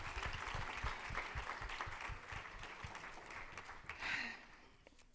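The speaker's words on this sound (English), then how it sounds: "Y'all better clap y'all hands." Audience clapping hands at a go-go music event, steady rhythmic claps with a low beat underneath, swelling briefly near the end.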